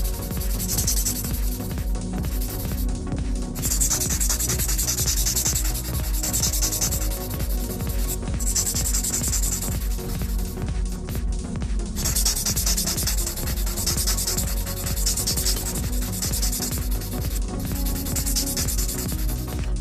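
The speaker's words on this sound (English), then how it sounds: "we're going to take a 240 grit felt, and we're going to bevel out the inside of the nail" Steady, rapid rubbing strokes of a 240 grit file beveling the inside of an acrylic nail, close and continuous for the whole stretch with a brisk back-and-forth rhythm.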